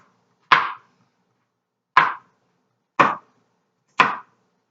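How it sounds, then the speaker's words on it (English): Four separate knife chops on onions against a cutting board, crisp and close, spaced about a second apart with silence between them. "Alright, so onions are nice and chopped up."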